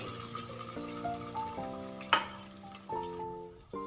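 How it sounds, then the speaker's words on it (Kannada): Chopped onion frying in hot oil with dal in a pan, a steady soft sizzle with a clank of a spoon stirring, over faint tonal background music. "ಈಗ ನಾನು ತೊಗೊಂಡಿರೋಂಥ ಈರುಳ್ಳಿಯನ್ನು ಸಹ ಅದಕ್ಕೆ ಸೇರಿಸ್ಕೊತಾ ಇದ್ದೀನಿ. ಈಗ ಇದೆಲ್ಲ ಚೆನ್ನಾಗಿ ಫ್ರೈ ಆಗಲಿ"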